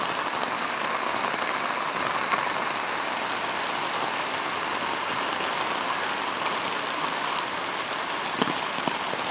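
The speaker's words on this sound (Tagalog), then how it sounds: "Lakas ng ulan." Heavy rain from Typhoon Carina pours steadily over flooded Navotas City, a dense unbroken hiss with occasional louder drops landing nearby.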